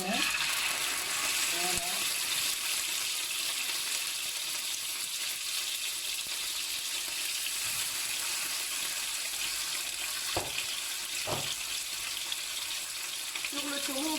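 Salmon sizzling in olive oil in a pan, a steady broadband frying hiss running throughout with a few brief clinks and a short spoken word near the start.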